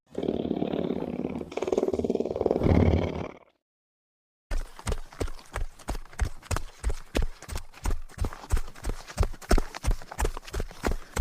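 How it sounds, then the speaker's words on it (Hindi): A lion's menacing roar echoes through a jungle in an animated Hindi fable, loud and sustained for about three seconds. After a brief silence comes a long run of rapid, rhythmic galloping hoofbeats as animals flee. "तभी अचानक से पूरे जंगल में गूंज उठी एक खतरनाक दहाड़।"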